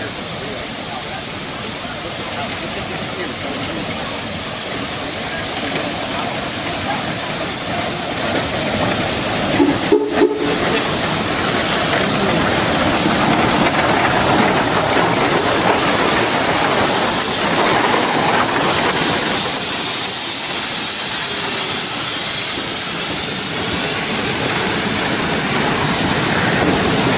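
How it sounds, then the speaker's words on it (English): Cass Scenic Railroad geared steam locomotive Number 5 rolls past close by, a steady loud wash of chuffing and mechanical rumble with a brief whistle-like burst near the middle, continuous throughout. "Number 5 goes by, you can see the relationship between the steam cylinders and the 5 locomotives"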